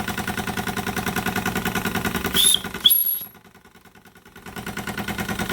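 Retrol SE-02 Stirlingkit model steam engine running with a fast, even mechanical chuffing beat, broken by two brief high squeaks and a short near-silent pause before the rhythmic chugging resumes.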